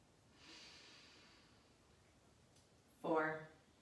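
Slow breathing in a quiet yoga session, a soft drawn-out inhale followed later by a short, louder exhale close to the listener, with low hush between the breaths.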